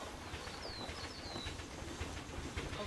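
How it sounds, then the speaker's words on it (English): A train rolls past in the video game Planet Zoo, a steady rumbling clatter with faint rhythmic clicks and a few thin high squeals, fairly quiet against the zoo's ambient background. "And I can hear the train."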